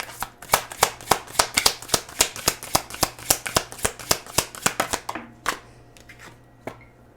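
Tarot cards being shuffled in quick riffling bursts, a steady run of crisp slaps that stops partway through, followed by a few softer card sounds, close and clear with no talking.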